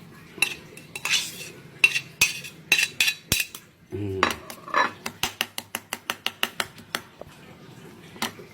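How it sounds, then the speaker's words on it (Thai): Eggs beaten with minced pork and mushroom in a bowl: scattered clinks of a utensil against the bowl, then a fast, even run of sharp tapping strokes, close and clear with no talking. "ตีให้เข้ากันครับ ตีให้เข้ากันเลย"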